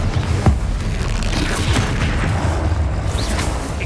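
A Bombarda blasting spell in Hogwarts Legacy goes off with a sharp booming burst near the start, followed by rumbling combat noise and scattered cracks that continue at a loud, even level.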